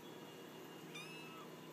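A cat gives a single short, high meow in a quiet room, faint and close, with no talking.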